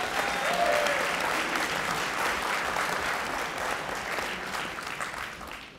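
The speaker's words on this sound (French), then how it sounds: "sous vos applaudissements, bien entendu" A debate audience at the French national debating cup applauds an opposition speaker being introduced, with sustained dense clapping that stays loud and gradually eases toward the end, and a faint whistle early on.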